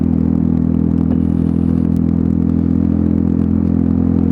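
Lexmoto Milano motorcycle fitted with a Lextek AC1 exhaust idling close by, a steady low throbbing putter with light mechanical clatter and no rises in revs.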